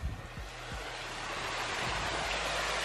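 Waterfall feature splashing into a backyard swimming pool at a mega mansion, a steady broadband rush of falling water that holds close and loud throughout with no talking.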